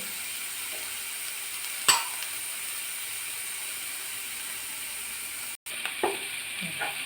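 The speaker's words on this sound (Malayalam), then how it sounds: "മിക്സ് ചെയ്ത് നന്നായിട്ട് ഇളക്കി കൊടുക്കാം" Onion, capsicum and tomato sautéing in a pan: a steady close hiss of frying with one sharp utensil knock early on, a brief dropout, then softer stirring scrapes.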